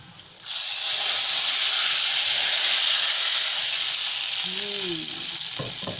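Hot oil tempering with golden-browned garlic and cumin bursts into a loud, steady hiss as it is poured into cooked dal, the sizzle jumping in abruptly and holding strong without talk.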